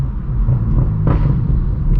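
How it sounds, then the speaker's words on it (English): Straight-piped BMW M4 F82 driving off, with a loud, deep exhaust rumble that swells briefly as it pulls away, heard close and continuous. "we're gonna hop back inside the M4 and get on the road"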